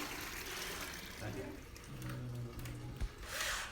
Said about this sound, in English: We will flush again, this one only for test